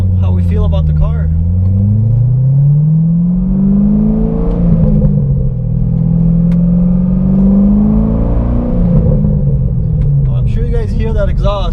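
A C6 Chevy Corvette with an SLP Loudmouth exhaust accelerates hard, its deep loud rumble rising and falling in pitch through several revs up close, with brief talk at the start and end.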